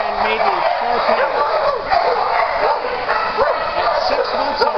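Shepherd and Sharpei mix puppies yip, bark and whimper in a busy, continuous jumble of high little calls, close by, with a voice talking over them.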